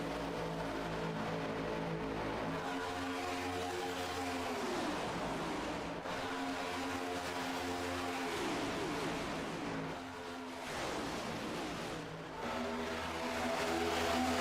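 Race cars driving down the tri-oval into turn 1 at Daytona, several loud engines roaring and droning with rising and falling pitch as they pass, continuous and close with no talk.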